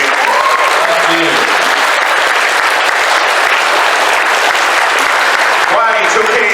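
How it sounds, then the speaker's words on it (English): Loud, steady applause from a convention audience at the close of a panel discussion, continuous throughout with a few louder claps near the end. "A big round of applause."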